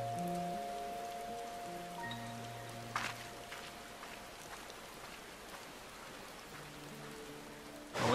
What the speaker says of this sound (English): And now she's in the rain again.